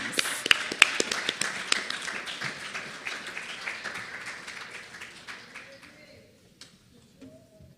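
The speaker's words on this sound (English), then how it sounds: "Let us give a warm round of applause for Remy Gomes." An audience at a project launch event in Saint Kitts and Nevis gives a round of applause, dense clapping that gradually thins out and fades away to scattered claps.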